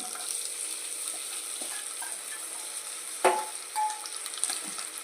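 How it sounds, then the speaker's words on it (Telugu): Steady sizzling of dried shrimp frying in hot oil, with a couple of brief clinks and scrapes partway through. "ఎండ్రొయ్యలు బాగా ఫ్రై చేసుకోవాలి"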